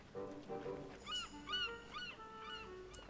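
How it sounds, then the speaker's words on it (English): A voiced character in the Foolish Mortals video game clucks like a chicken, a run of about five nasal, honking, pitched calls at a steady pace, fairly soft and alone. "I do start clucking like a chicken."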